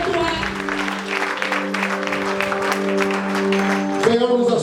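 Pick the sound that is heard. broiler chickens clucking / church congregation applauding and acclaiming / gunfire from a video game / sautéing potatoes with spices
church congregation applauding and acclaiming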